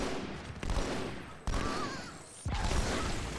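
Explosions in the Halo 2 video game, three sharp loud bursts spaced about a second apart, each followed by a rumbling, crackling decay.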